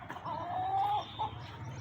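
Chickens kept as backyard fowl cluck and murmur nearby, with a longer sustained call in the middle and a brief second call near the end, over low background noise.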